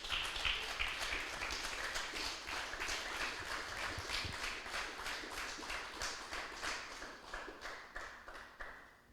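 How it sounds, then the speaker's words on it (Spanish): A church congregation clapping for the Lord, a fairly quiet, rhythmic round of hand claps that gradually thins and fades toward the end. "Denle un fuerte aplauso al Señor, aleluya."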